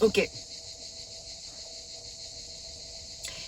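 Cicadas buzz in a steady, continuous high drone outdoors on a hot, heavy summer day, with a short spoken word and a thump at the start.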